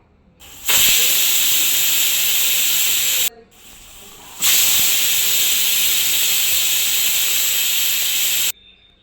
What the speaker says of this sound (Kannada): ನೋಡಿ 2 ವಿಷಲ್ ಆಗಿದೆ.